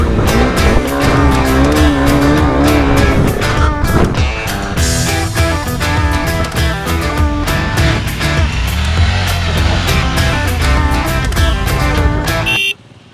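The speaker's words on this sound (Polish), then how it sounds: "Jadą, patrz. Widziałeś ile ich jedzie? Same duże motocykle i jedna CRF 300L" A group of big motorcycles riding past, loud overlapping engine roars and revving that swell and shift for over twelve seconds, then cut off abruptly.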